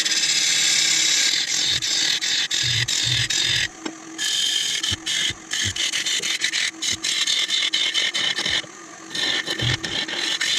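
A steady, loud scraping and chattering from a tool hollowing an ebony bowl on a wood lathe, cutting in repeated short bursts over the constant hum of the spinning machine.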